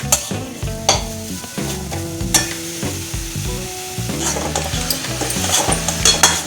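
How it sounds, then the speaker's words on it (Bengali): Grated coconut and patali jaggery are stirred together in a hot pan for Bengali vapa puli pithe, with rhythmic scraping strokes over a continuous soft sizzle and no one speaking. "এবার নারকেলের সাথে গুড়টাকে ভালোভাবে মিশিয়ে নিচ্ছি।"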